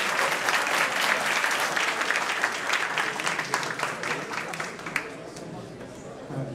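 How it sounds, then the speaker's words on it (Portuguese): An audience at a lecture breaks into applause, steady dense clapping from a room full of people that gradually thins and fades over a few seconds. "Peço uma salva de palmas, então."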